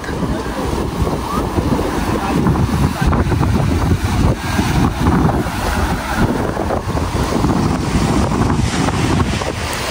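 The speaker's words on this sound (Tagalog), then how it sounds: "Lakas ng hangin." Strong wind buffeting the microphone on a sea shore where people haul a fishing net from the surf, a loud continuous rumbling roar with waves beneath and voices talking over it.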